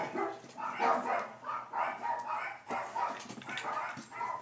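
Several dogs barking excitedly indoors as someone arrives home, a continuous close run of overlapping barks and yips.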